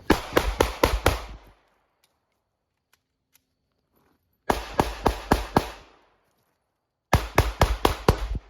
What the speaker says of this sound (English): I'm gonna shoot 5, reload, and I'm gonna shoot 5 from one side, 5 from another, into the same center mass shots.